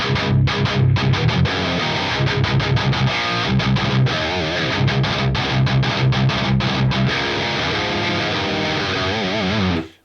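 Electric guitar runs through an Axe-Fx III Mesa Mark preset with boosted upper-mid EQ, giving loud, heavily distorted palm-muted metal riffing with chugging rhythm, then sustained chords that cut off sharply at the end.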